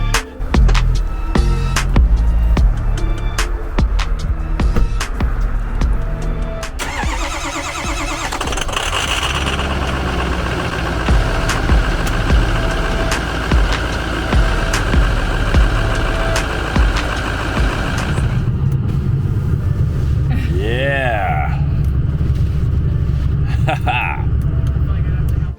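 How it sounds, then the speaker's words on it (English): A frozen truck engine cranks over and then settles into a steady low idle while camping in a winter storm, with other sounds layered over it through much of the stretch. "the ceremonial cranking of the frozen truck"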